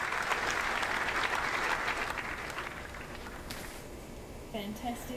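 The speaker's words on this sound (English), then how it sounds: "Why are they clapping?" A mission control room audience claps during a Rocket Lab Electron booster recovery, steady applause for several seconds that fades as a voice begins speaking near the end.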